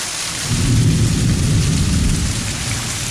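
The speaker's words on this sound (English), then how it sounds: "Little thunderstorm going," Steady heavy rain in a windless thunderstorm, with a low rumble of thunder swelling in early and lingering beneath the downpour.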